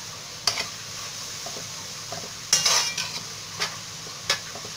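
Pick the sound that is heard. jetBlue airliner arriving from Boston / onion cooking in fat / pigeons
onion cooking in fat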